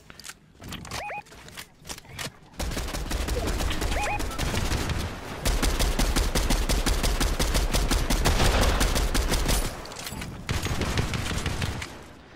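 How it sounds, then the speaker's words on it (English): Rapid automatic gunfire from a gun in a Fortnite match, loud and sustained bursts nearly filling the stretch, with a few sharp single shots and brief chimes at the start. "My gun's just not shooting fast."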